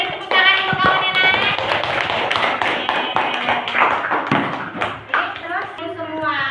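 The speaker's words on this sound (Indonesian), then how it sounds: "beri tepuk tangan dulu kawannya nak" Classroom students clap for a classmate in a lesson, irregular sharp claps mixed with children's voices and a teacher talking over them.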